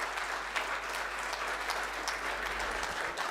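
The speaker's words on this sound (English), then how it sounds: "Please give a big hand." An audience at an innovation and governance conference applauds the chief guest, a fairly quiet, evenly sustained patter of many hands clapping that sounds somewhat distant and continues for a few seconds.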